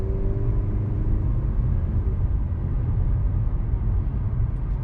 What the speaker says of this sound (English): I want you guys to hear the acceleration a little bit.